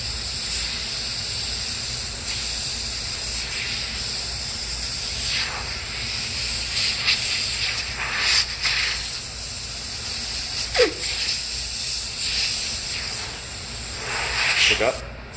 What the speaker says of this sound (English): This is actually a Harbor Freight airbrush for those of you guys who are asking.